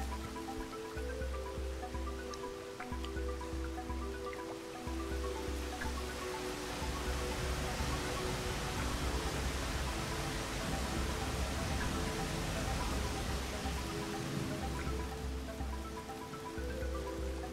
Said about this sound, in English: I do not want to die to the rain. I feel safer if the rain just stops.